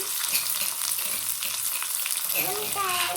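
Onions frying in a pan make a steady, loud sizzle with stirring noises, and a brief squeaky scrape shows up near the end.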